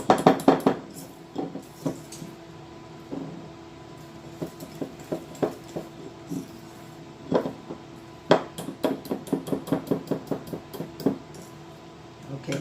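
Gluten- and sugar-free chocolate chip cookie dough is whisked in a bowl, giving irregular clinks and taps of the whisk against the bowl, with dense bursts of quick strokes between quieter pauses.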